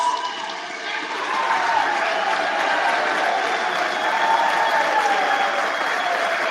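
Steady, continuous applause from a large assembly at a formal electoral vote count, a dense wash of clapping held evenly throughout without pause.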